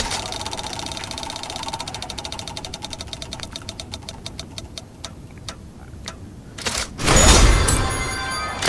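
Prize wheel spin in Forza Horizon 4: a rapid train of ticking clicks that gradually slows and spaces out as the wheel winds down, followed by a loud burst of reward jingle at the end.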